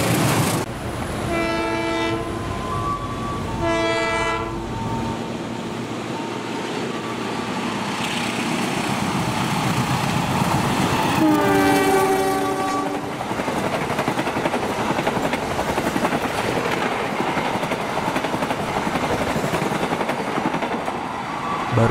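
Passenger train KA 106 passes Kelari station, its horn sounding in several blasts early on before the rumble and clatter of the coaches, including a striped stainless-steel dining car, rolls by loud and close for a long stretch.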